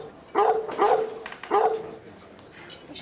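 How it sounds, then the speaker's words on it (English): A dog, teased by waiters, gives several sharp barks and yips in quick bursts, close and loud, with a quieter whimpering stretch between them. "We shouldn't let the waiters tease the dog like that."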